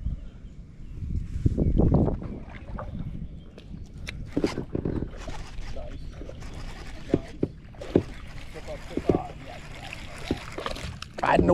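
A fishing kayak on the water in Rhode Island riding waves, with splashing and sloshing hull sounds loudest early on, under scattered voices.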